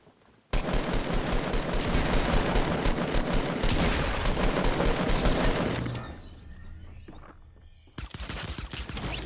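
A silenced weapon in the Fortnite Battle Royale video game fires a dense, continuous burst of rapid shots for several seconds, then briefly quietens before another volley.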